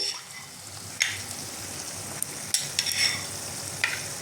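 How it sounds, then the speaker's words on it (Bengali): Chicken keema with chickpeas stir-fried in a pan in Bengali style, with a steady close sizzle and sharp scraping strokes of the spatula every second or so, without speech. "পুরো কাবলি চানাটা দিয়ে একটুখানি কষিয়ে নেব"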